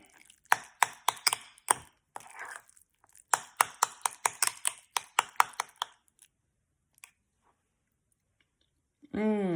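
Guacamole being mixed with lime in a bowl, a run of quick, sharp tapping and mashing strikes in bursts, close and fairly quiet, then a pause and a short voice at the end.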